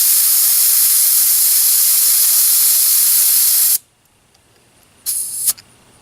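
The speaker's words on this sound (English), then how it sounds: "the other side actually has this little nipple so you can let air out" Air hisses steadily and loudly out of a car tire valve for several seconds, cuts off abruptly, then a second short burst follows after a brief pause, close up.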